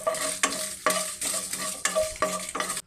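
Five Byadagi red chilies are stirred and fried in a pan for rasam, with a soft sizzle and a scraping stir repeated about every half second.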